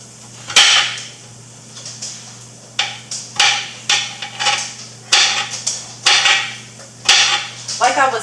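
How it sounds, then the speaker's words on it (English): A knife chopping garlic on a cutting board in a home kitchen, sharp knocks in irregular bursts over a low steady hum, fairly close and distinct. "Finely chopping the garlic."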